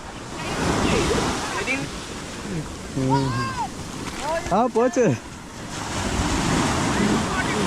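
Surf rolling and washing up on Cherai beach in Kerala, where the waves wipe out a sand castle, with wind buffeting the microphone and a few short voiced exclamations in the middle.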